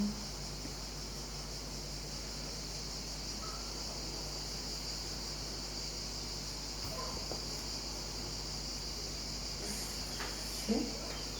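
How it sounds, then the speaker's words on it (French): A steady, high-pitched insect drone of cicadas fills the air continuously, with faint scattered outdoor sounds and a brief bump near the end. "Le chant des cigales"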